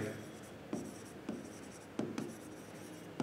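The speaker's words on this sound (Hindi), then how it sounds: "तो हम यहाँ पे लिखेंगे" Pen or marker writing on paper or a board during a Class 12 accounts lesson on partnership ratio changes, with a few soft scratchy strokes that come in short bursts. Quiet and close, with no talk over it.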